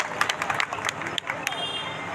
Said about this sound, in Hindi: एक बार तालियों की अपेक्षा भी करता हूं